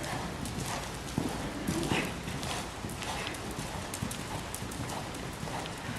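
Horse trotting during a riding lesson, with steady clip-clop hoofbeats close by, continuous over a busy outdoor background, with an instructor and rider talking at times.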